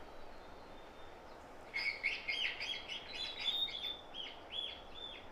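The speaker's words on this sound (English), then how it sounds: "she's playing birdsong on the loudspeaker, trying to lure in one of Aotearoa's rare songbirds" A recorded song of a rare yellow New Zealand songbird plays from a loudspeaker in the forest. A faint thin tone gives way to a burst of bright, repeated chirps and trills, moderately loud, that continue to the end.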